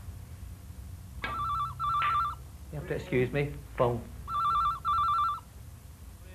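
A telephone rings in two short bursts of trilling double rings, a pause while someone speaks briefly, then another pair of rings, fairly clear against a quiet room.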